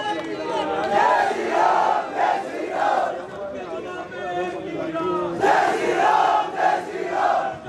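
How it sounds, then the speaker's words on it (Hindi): A large crowd at a political nomination rally for Rajyavardhan Singh Rathore loudly welcomes Dr. Nirmal Singh with rhythmic, repeated chanted cheers that swell in waves. "डॉक्टर निर्मल सिंह जी से जोरदार तालियों से स्वागत है"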